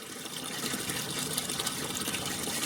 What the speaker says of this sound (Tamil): இது தண்ணி தொளிச்சு தீட்டுறீங்களா?